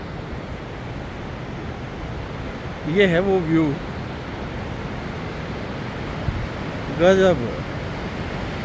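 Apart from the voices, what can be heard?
loud rushing mountain river water in Himachal Pradesh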